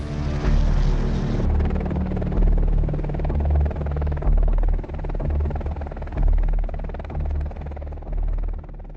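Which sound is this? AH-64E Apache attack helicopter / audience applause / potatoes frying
AH-64E Apache attack helicopter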